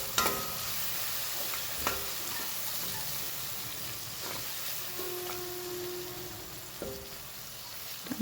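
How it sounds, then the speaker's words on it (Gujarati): Tomatoes and peas fry with red chili and salt while a spoon stirs them, giving a continuous sizzle and several distinct scraping knocks against the pan. "સરસ મિક્સ કરી લઈએ."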